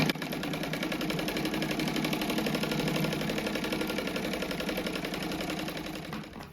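A sewing machine runs steadily as it stitches right along the edge of a rug, giving a dense, continuous mechanical whir with a fast rhythmic chatter that holds at even loudness before easing slightly at the end.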